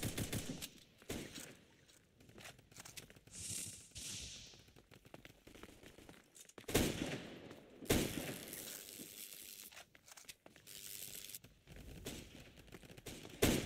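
Rapid bursts of video game gunfire crackle in uneven volleys, sharp broadband cracks clustering around a few louder peaks, with no talk over them.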